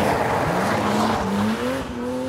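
BMW M Coupe with 321 brake horsepower sliding tail-out, its tyres squealing in a sustained, wavering howl over a loud engine note, close and continuous for a couple of seconds.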